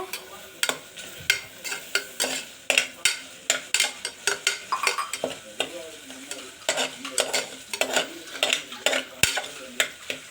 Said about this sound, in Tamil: இது மாதிரி 1 மினிட் நல்லா வதக்கி எடுத்துக்கோங்க